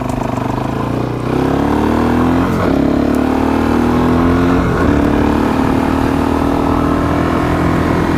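Suzuki DRZ400SM dual-sport motorcycle running steadily on a ride, its loud engine drone rising in pitch twice as it accelerates through the gears, with wind noise throughout.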